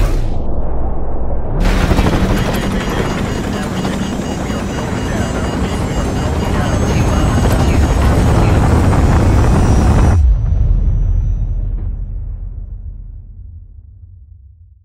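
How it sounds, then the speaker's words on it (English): A missile slams into the ground in Call of Duty Modern Warfare Remastered, a sudden loud, close blast followed by several seconds of sustained rumbling roar and debris, which then fades into a quieter low rumble. "Incoming missile. Hang on!"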